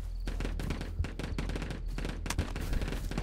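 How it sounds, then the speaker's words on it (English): Dense, rapid automatic gunfire with overlapping bursts and sharp single shots from the Ghosts of Tabor shooter game, loud and continuous for several seconds with no pauses. "It's a lot of gunshots."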